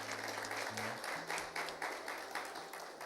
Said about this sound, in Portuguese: Uma salva de palmas para o nosso visitante.